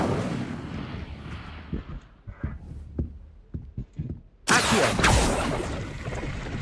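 Incendio fire spell cast in Hogwarts Legacy: a series of sharp thumping impacts gives way to a sudden loud roaring whoosh of flame that holds, then fades slightly.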